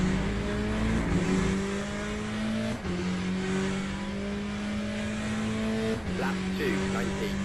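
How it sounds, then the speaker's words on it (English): Race car engine sound from Le Mans Ultimate, a steady high-pitched engine drone with a gear shift dip around the three-second mark and another near six seconds as a faster class-leading car closes in behind. "faster car approaching"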